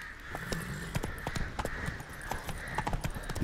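Rhythmic clip-clop of horse hooves in the video game The Witcher 3: Wild Hunt, trotting steadily over a hard surface, close by and moderately loud, with a faint ambient backdrop.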